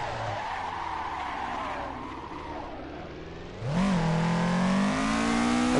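Drifting car in the Assetto Corsa racing game, a loud continuous tyre skid with engine roar that surges and revs higher partway through as the car kicks back into the slide.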